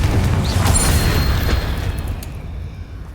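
A Confringo fire spell from Hogwarts Legacy bursts against a giant spider as a loud, booming blast, its rumbling tail thinning out over about two seconds.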